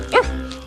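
A single short woof from a human voice imitating a dog's bark, close and fairly loud, with a quick rising-and-falling harmonic sweep and a low murmur trailing after.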